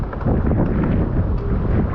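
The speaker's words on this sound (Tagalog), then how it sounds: "Lakas ng hangin." Strong typhoon wind buffets the microphone in a steady, loud roar with gusty rumbling for the whole stretch. No voices can be heard.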